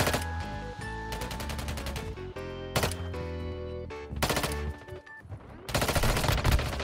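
Rapid bursts of SMG gunfire in Warzone Mobile, volleys of automatic shots with brief pauses between them, loud and busy with game music and effects underneath.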